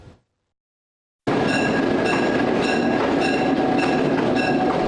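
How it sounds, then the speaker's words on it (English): Tennessee Valley Railroad Engine 1829 pulling eight railroad cars out of the Missionary Ridge Tunnel in Chattanooga; after a brief silence a loud, steady rumble of rolling wheels and rail clatter begins abruptly and continues close by. "Engine 1829 pulls itself and 8 cars out of the darkness of the Missionary Ridge Tunnel"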